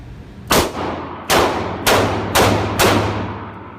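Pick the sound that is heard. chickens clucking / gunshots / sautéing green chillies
gunshots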